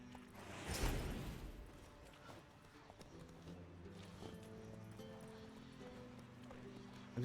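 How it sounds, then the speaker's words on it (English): Horses in The Witcher 3 clatter close by with running hooves and a brief whinny, then fade into quieter game ambience as someone talks over it. "These horses are just keep getting in my way."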